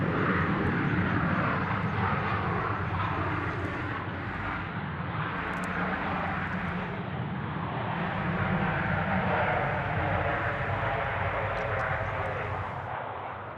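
Airliner passing at Sydney Airport, a steady broadband jet roar that stays loud throughout and swells slightly toward the middle and end, heard alone without talk.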